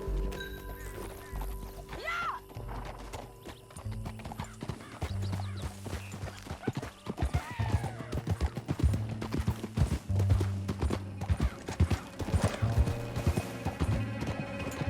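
Horse hooves clip-clop in a steady galloping rhythm with snorts and a whinny, over a music-like backdrop, and a brief shout, in the video game Red Dead Redemption 2.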